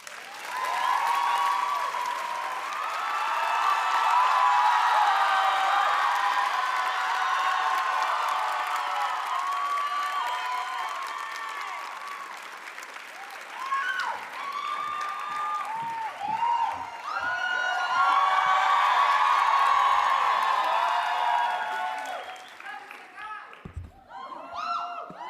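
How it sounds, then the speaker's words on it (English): A ceremony audience applauds and cheers for two student speakers at the UWC Maastricht leaving class, dense clapping with whoops swelling twice, fading, then rising again before dying away near the end. "Let's give them a round of applause"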